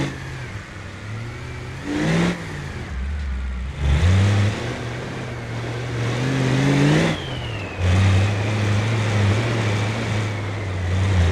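In the BeamNG driving game, a car engine revs and pulls away in first gear, rising and falling through several loud accelerating surges with gear-like pitch sweeps, no talk over it.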